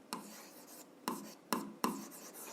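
Pen strokes on paper while a math equation is written out, four sharp scratchy strokes at irregular intervals, close and fairly quiet, with no voice.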